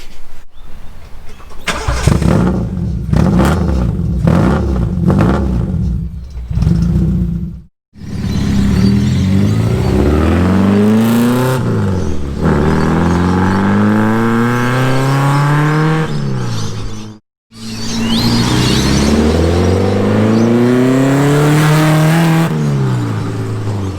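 Toyota 4AGE engine in a KE70, on its stock exhaust before a 4-1 header goes on, starts and then revs hard in repeated loud sweeps up and down, close by, with brief gaps between bursts.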